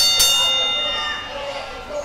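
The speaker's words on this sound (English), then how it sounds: "All right, Tyler, the bell sounds." A ring bell strikes once sharply to open a wrestling match at an indoor event, its metallic tone decaying over about a second while commentators talk over it.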